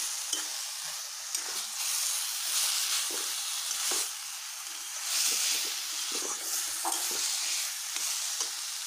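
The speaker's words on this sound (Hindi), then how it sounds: "तो थोड़ा फ्राई कर दूँगी।" Potatoes and spinach fry with salt in a pan, giving a loud, continuous sizzle broken by repeated scraping stirs and no talking.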